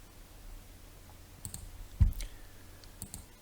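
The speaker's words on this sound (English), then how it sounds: "choose the file that you created and click Import" A few crisp computer mouse clicks land close by at irregular spacing over a low background hum, with no one speaking.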